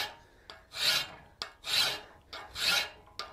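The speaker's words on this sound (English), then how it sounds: "just keep filing it straight on down like so" A hand file rasps along a forged steel round veining butcher tool in three long, even strokes, each preceded by a sharp click as the file is set down, close and clear with no voices.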